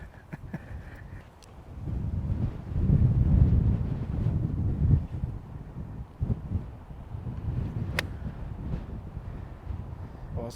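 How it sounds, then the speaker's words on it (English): Wind buffets the microphone in low, uneven rumbling gusts that swell and fade on a golf course, with a couple of faint clicks and no voices. "Very windy."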